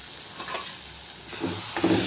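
Village-style mushroom curry frying in a pan, a soft steady sizzle with brief stirring scrapes, close and fairly quiet.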